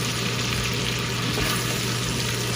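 Sausage browning in a pot for South Carolina-style red beans and rice, giving a steady, close sizzle and crackle of frying fat that runs unbroken, with no talking.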